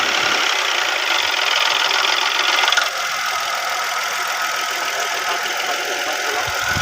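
An engine runs steadily at idle after its crankcase drain plug was lost, checked for knocking. A dense, continuous mechanical din holds at even loudness throughout, with no voices.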